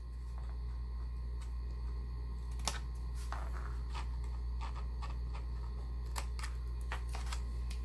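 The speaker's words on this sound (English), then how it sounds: "Just cut off the corners." Scissors or a corner cutter snip the corners off decorative card stock for a Halloween gift box, making a few sharp, close clicks over a steady low hum.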